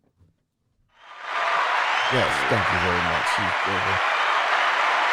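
Applause for a guest named Ivory rises sharply from silence into loud, sustained clapping, with someone speaking briefly over it.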